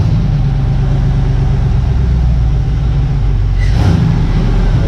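A car engine that has just had its ECU flashed runs loud and close, holding a steady heavy rumble with a brief rise in revs near the end.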